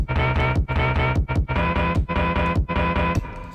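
A steady electronic beat of punchy kick drums with a soft, muted hi-hat ticking between them, loud and continuous with no voices.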